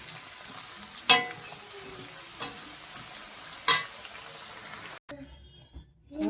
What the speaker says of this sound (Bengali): এইখানে আমার আলুটা ভাজা হয়ে এসছে